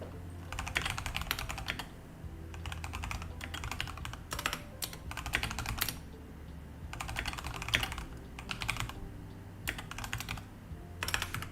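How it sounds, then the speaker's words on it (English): Bursts of fast clicking keystrokes on a mechanical keyboard, close and clear, arriving in several runs separated by short pauses over a low steady background hum. "Keyboard sounds nice today. It's the mechanical keyboard that I didn't take home with me"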